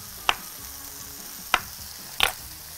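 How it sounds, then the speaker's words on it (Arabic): Onions frying on low heat in a pot for chicken mushroom soup with caramelized onion, a quiet sizzle broken by three sharp stirring scrapes against the pot, no speech. "طيب تعالوا نقلب البصل"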